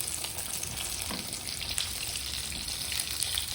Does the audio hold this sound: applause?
no